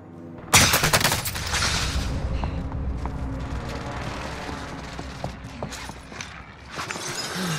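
A called-in fire strike in a video game opens with a sharp, loud blast, then sustained rattling gunfire and scattered impacts continue densely to the end.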